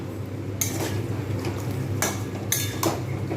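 A spoon scraping and clanking against a metal pot while curry is stirred, with several distinct metallic knocks spaced irregularly over a low steady cooking hiss.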